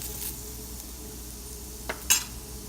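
Grated coconut and garlic stirred in a frying pan for spicy garlic chutney, heard as a soft, even sizzle with a couple of light metal clinks from the spoon toward the end.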